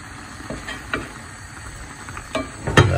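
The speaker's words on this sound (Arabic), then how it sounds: "نقلب كده تمام" Shrimp pasta is stirred in a hot frying pan, a soft steady sizzle running underneath as a utensil scrapes and taps the pan a few times, the loudest clatter near the end.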